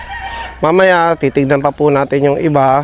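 Chickens cluck and crow loudly and close by at a small, simple poultry farm in a series of drawn-out calls, with someone speaking briefly.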